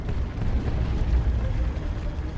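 A turret is destroyed in the Dawn of War 2 video game during an Imperial Guard versus Eldar match, giving dense, continuous low rumbling blasts and explosions throughout.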